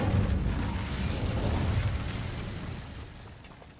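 A fiery Incendio spell is cast in a Harry Potter video game, a loud whooshing burst that fades gradually over several seconds with a low rumbling roar.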